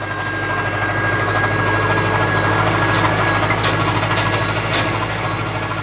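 A tractor engine runs out in the field during a rhino relocation, a steady low rumble with a constant idling hum, loud and close for the whole stretch with no talking.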